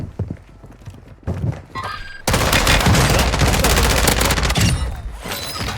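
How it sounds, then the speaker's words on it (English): Gunfire rattles in the video game Warzone 2 on Ashika Island: a few scattered thumps and shots at first, then a dense, loud burst of rapid automatic fire and crackling impacts that continues steadily to the end. "I don't know who's firing"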